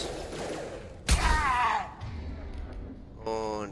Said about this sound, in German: Ein Schuss.